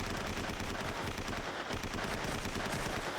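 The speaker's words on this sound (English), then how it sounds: "And here again, there's firing." Gunfire in the 2008 war film Defiance: a dense, unbroken barrage of rapid shots crackling loudly throughout, with no pauses.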